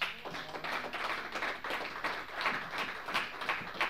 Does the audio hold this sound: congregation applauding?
yes